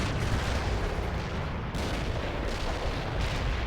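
An artillery barrage in the World in Conflict video game rumbles as a dense, continuous roar of heavy blasts, loud and close, with no pauses between the impacts.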